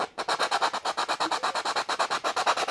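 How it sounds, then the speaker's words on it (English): Steady back-and-forth sanding on the ear part of a sugar skull decoration: about twenty quick, even rasping strokes, loud and close, with no voices. "it is noisy when you're sanding"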